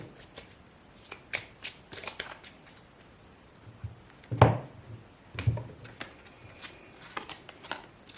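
Oracle cards are shuffled by hand at close range, with soft, irregular riffling and slapping of the cards against each other and one louder clack partway through.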